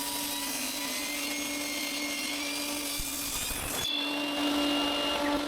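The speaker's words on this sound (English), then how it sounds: "I start by cutting the piece so that it's 6 millimeters thick." A piece of ash wood is cut down to thickness on a power saw, with a steady loud whine and blade hum throughout and a sharp change in tone near the end as the cut finishes.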